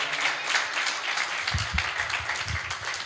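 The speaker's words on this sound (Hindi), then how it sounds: "जोरदार ताली बजा के प्रभु को हम आदर दें" Congregation at a Sunday church service clapping loudly together, a dense sustained patter of applause with a few deeper thumps partway through, no talking over it.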